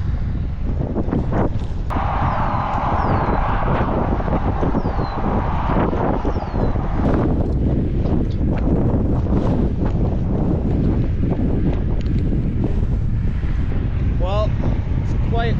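Strong, steady wind roars and buffets the microphone throughout while cycling in western Manitoba, with a person talking underneath.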